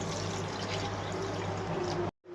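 Water is poured into a pot of fish curry in a steady, fairly loud stream for about two seconds, then cuts off abruptly.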